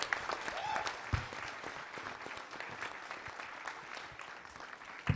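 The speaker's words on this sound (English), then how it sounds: "Can we get another round of applause for all of our fighters who are fighting in Creator Clash 2?" Audience applause for the Creator Clash 2 fighters at an official weigh-in event, a steady dense clapping that runs through the whole stretch at moderate loudness, with faint voices mixed in.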